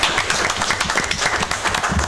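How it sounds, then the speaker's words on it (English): A city council meeting audience applauds in Iola, Kansas, with a steady, moderate wash of many overlapping hand claps lasting the whole stretch, somewhat distant and even. "You should clap, folks."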